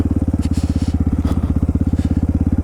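Motorcycle riding over frozen sand in chilly weather, its engine a loud, close, rapid regular thumping pulse throughout, with faint crunching underneath.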